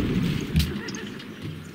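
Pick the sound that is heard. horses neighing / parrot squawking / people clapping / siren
horses neighing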